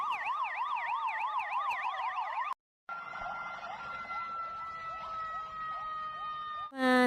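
A toy ambulance siren wails in a rapid rising-and-falling electronic tone, cuts out briefly, then resumes as a steadier high tone with repeated quick sweeps, fairly quiet and clean.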